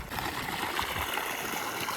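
Water runs through an irrigation channel on a farm field with a continuous gurgling trickle, near and steady, and no one speaks.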